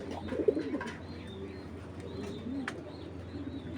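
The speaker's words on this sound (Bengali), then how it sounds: "পুরান জাতের কবুতর, একেবারে পুরান জাতের" Old-breed Giribaz pigeons coo nearby in soft, repeated low rolling calls, with a few faint chirps and light background noise.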